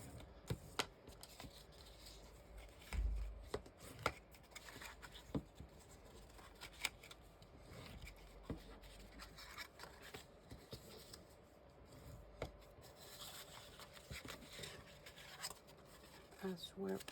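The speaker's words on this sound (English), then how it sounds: "now we just need to crease all the scoring lines perfectly." A paper-crafting tool creases scoring lines on a cardstock pumpkin treat box, making faint close rubbing and scraping strokes with small taps and rustles, in a quiet room.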